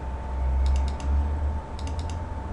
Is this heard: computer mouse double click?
yes